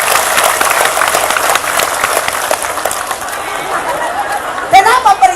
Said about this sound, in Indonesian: Tepuk tangan dulu untuk panitia.